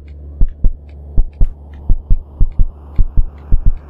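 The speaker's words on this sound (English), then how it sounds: "The heartbeat." A video-game heartbeat in KinitoPET thumps in loud, regular lub-dub pairs over a steady low hum, about a dozen beats close and alone with no talking.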